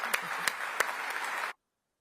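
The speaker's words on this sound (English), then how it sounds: "I know members will want to give you a round of applause" A conference audience at a CBI business event applauds steadily, with a few sharper claps standing out. The clapping cuts off abruptly after about a second and a half, leaving silence.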